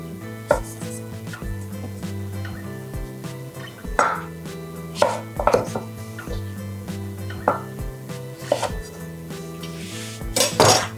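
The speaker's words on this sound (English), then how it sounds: "I'm just going to cut these bigger pieces in half" A knife slicing mango pieces in half on a cutting board, with irregular sharp knocks and clinks of the blade against the board over a steady low hum, no talking.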